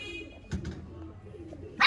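Pigeons from a breeding pair of older birds coo low and intermittently, with a couple of short thumps midway and a sharper burst of noise at the end.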